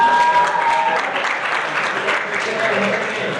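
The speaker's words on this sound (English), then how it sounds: "Take a round of applause." Audience applause at a poetry slam, a dense wash of clapping from a crowd filling the whole stretch at steady loudness.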